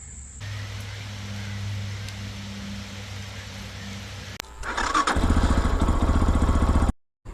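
Lifan KPX 250 single-cylinder 249cc fuel-injected motorcycle engine, first a steady low idle-like hum, then a louder, rougher throttle-up as the bike pulls away, cutting off abruptly near the end.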